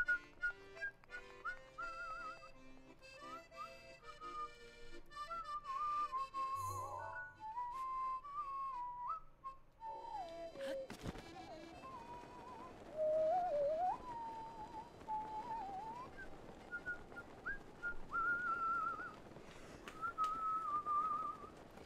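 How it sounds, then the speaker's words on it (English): Someone whistles absent-mindedly, a meandering tune of clear, wavering notes with pauses between phrases, close and fairly quiet over faint game sounds. "Sometimes I just start, like, zoning out and whistling and not even realize that I'm doing it"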